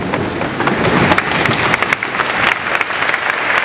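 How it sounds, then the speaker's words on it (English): Audience at a road safety roadshow in a leisure centre stands and applauds, a dense, sustained burst of clapping from a large crowd filling the whole stretch with no talk over it. "if everybody could stand up and give everybody a round of applause"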